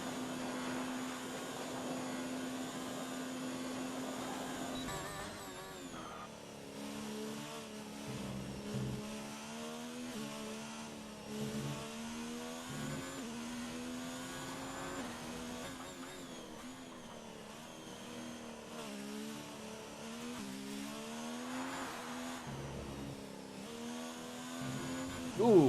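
Race car engine in a PC racing game at the Belgium circuit, a steady high whine held at full throttle with repeated dips and climbs through gear changes, faint and continuous.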